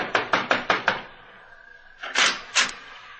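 A quick run of five sharp knocks on a door, a brief pause, then two heavier thuds, close and clear with no talking.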